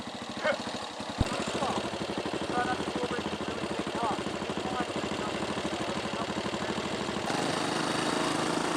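A Suzuki Van Van motorcycle engine runs off road with a steady buzzing drone that holds throughout and swells slightly louder near the end.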